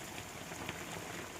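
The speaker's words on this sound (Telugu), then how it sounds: "చూడండి ఎలా పడుతుందో వర్షం." Heavy rain pours down steadily outdoors at a house construction site, a dense, continuous hiss of drops close by with no voices.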